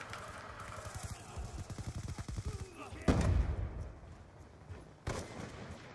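Black Ops 2 gunfire crackles in rapid bursts of automatic fire, with a couple of louder sharp shots standing out, under a voice talking over the game.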